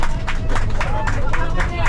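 A small group of about twenty people on a street in Andorra or nearby breaks into rhythmic clapping, loud and close, with chatter and voices mixed in throughout.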